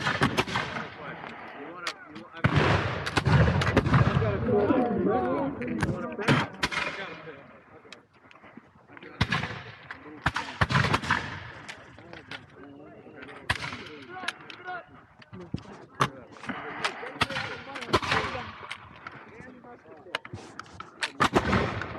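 Musket volleys at a Battle of Great Bridge war reenactment: repeated sharp, loud shots scattered irregularly over about twenty seconds, some close and some farther off, mixed with people talking and shouting commands between the reports.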